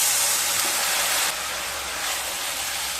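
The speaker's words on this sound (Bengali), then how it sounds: "সাথে অল্প জল দিয়ে দেব।" A splash of water hits spices frying in a pan for stuffed bitter gourd fry, cumin, coriander, turmeric and chilli powder, giving a loud, steady steaming hiss that eases slightly partway through.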